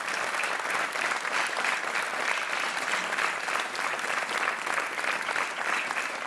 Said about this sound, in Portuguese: Um aplauso para o André Dias, nosso super joker